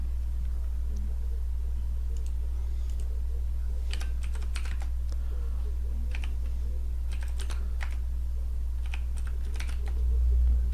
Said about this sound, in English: So I just type in CMD right here, bring it up in my list, right click, send to desktop to create a shortcut.